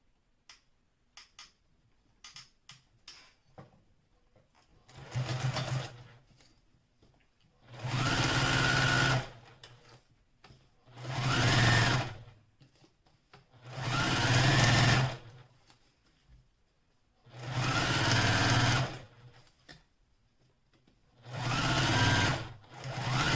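Near and steady, a sewing machine sews a smaller stitch on a small Tribiani bag: a few light clicks, then six sustained runs of stitching with short pauses between them.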